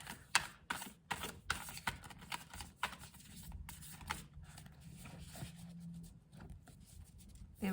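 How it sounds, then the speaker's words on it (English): Quiet, crisp riffling of playing cards being shuffled, with soft flurries of rapid papery clicks and a few sharper taps, close by. "These cards like to be shuffled"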